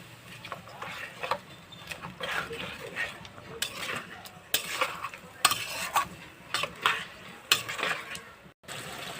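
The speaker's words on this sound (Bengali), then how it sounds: "এবার ভালো করে মশলাটাকে ভেজে নেব," Potatoes and spices being stir-fried for a fish curry, bursts of spatula scraping and clattering against the pan over a soft sizzle, in an uneven rhythm.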